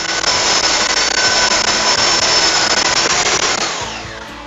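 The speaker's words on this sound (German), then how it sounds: "Und deswegen schleife ich es nochmal kurz." A loud power sander whirs continuously against wood, a harsh high-pitched grinding that holds steady and then winds down at the end.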